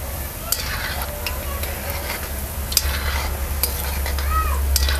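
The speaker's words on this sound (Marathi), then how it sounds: "चुलीत जाळ कमी करून चांगलंसं आपल्याला हे तळून घ्यायचं" Gulab jamun fry gently over a low flame on a wood-fired stove, a steady close sizzle with occasional sharp clicks of a utensil against the pan, and no speech.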